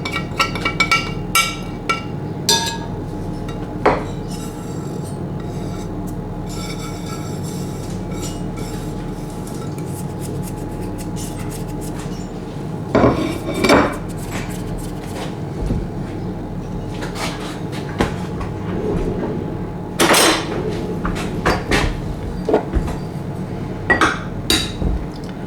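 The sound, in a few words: carrot cake ingredients going into a dish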